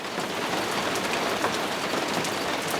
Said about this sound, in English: It's a full-out downpour with not only rain,